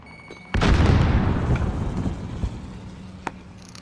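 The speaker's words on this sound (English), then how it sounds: "Grenade up!" A grenade explodes in the Warzone video game: one loud, close boom after a quiet start, rolling into a long decaying rumble, with a sharp smaller crack near the end.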